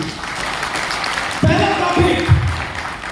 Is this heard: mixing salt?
no